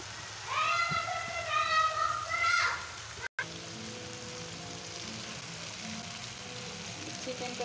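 Chicken pieces dropped into hot spiced oil for a Bengali chicken curry, giving a steady, close hiss of sizzling that takes over after a brief burst of high, warbling sound and a sharp break.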